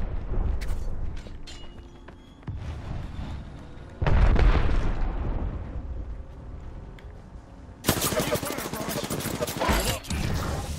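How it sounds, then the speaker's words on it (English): Gunfire and explosions in a PS4 online shooter game, with bursts of shots and booms of shifting loudness and a louder, sustained volley near the end, under faint background voices. "they're shooting at me"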